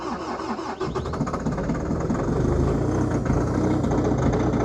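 Engine of a vehicle cranking and catching in winter cold during a snowstorm near Buffalo, then settling into a loud, rough, steady idle up close, with no talking.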